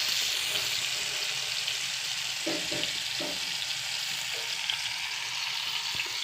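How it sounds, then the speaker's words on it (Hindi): Potato and pointed gourd fry in oil in a kadhai, a continuous close hiss of sizzling with a few soft scraping stir sounds partway through. "कढ़ाई में भूनने के लिए डाल दिए हैं।"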